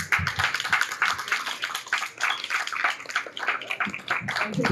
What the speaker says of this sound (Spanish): Damos un aplauso, por favor, fuertísimo a Pablo